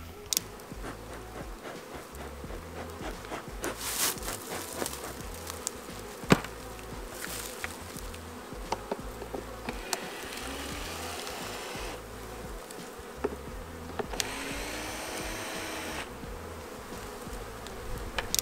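Honey bees buzz steadily around open hives during a spring hive inspection, a dense continuous drone with individual bees passing close to the microphone now and then, with no talking.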